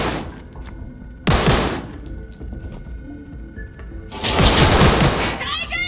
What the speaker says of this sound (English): Doesn't really matter that I'm shooting up this place